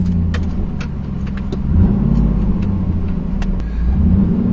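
Rear-wheel-drive car backing slowly out of a garage on a test drive after a differential repair, a steady low engine rumble with a slight swell partway, close and alone with no talk.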